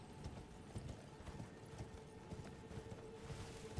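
A horse gallops in the Elden Ring video game, its hooves making a quick, even rhythm of soft thuds under a steady low ambient hum.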